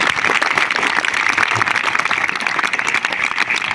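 Dense, steady applause from an audience at an inter-house Hindi speech competition among students, many hands clapping together at full volume throughout with no pauses.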